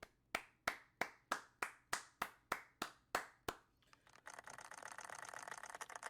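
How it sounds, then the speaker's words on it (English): About eleven slow, crisp hand claps ring out one by one in an evenly spaced rhythm, followed by a rougher, fuller burst of clapping, during a baseball podcast. "Round of applause."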